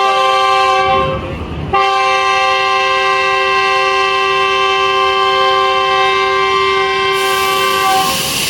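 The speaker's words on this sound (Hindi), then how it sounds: "तो विसल होते ही हलचल हो जाती है।" Green Line train at Rawalpindi station sounds a loud, sustained multi-tone whistle, briefly breaking off after about a second and then holding steady for several seconds amid platform noise.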